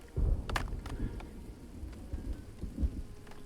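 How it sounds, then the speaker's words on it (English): Rain falls steadily in the video game Farthest Frontier, a soft, continuous patter with a few sharper drops and low rumbling gusts, fairly quiet and with no voices. "And it's raining, which isn't great."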